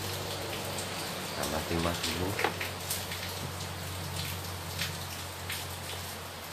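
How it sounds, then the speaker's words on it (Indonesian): Steady rain falls outdoors during the rainy season, a dense even patter of drops on surfaces continuing throughout, with someone talking over it in the foreground. "Sekarang musim hujan."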